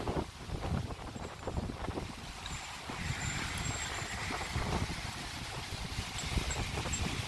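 Wind blowing outdoors, a soft gusty rush buffeting the microphone in uneven swells, faint and continuous with no voices.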